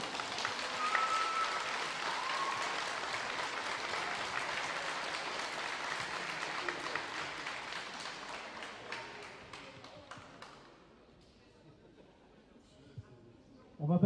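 Crowd applause at a youth football awards ceremony, sustained clapping from many people for young players, loud and steady for about ten seconds before thinning out, with a voice talking over it.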